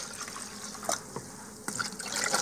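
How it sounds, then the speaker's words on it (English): Water poured into a tray of peat moss used for African nightcrawler worm bedding: a soft trickling and splashing fill with a few brief drips and spatters, fairly close and quiet, with no talking. "pour some water in these"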